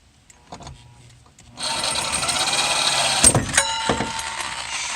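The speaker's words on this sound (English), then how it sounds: "And we're going to drill through there." A power drill bores through the metal body of a Toyota Supra drift car to make a side exit for the exhaust, starting after a few light taps and whining continuously and loudly for several seconds, close up.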